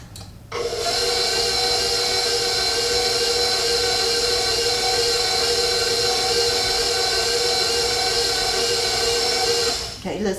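A stand mixer kneads cinnamon roll dough at one continuous, loud motor whine for about ten seconds, starting and stopping abruptly, up close with no talking over it.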